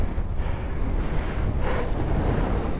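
Steady, blustery wind roars and buffets the microphone without pause on the Col de l'Assietta mountain pass, a dense low rumble with no voices.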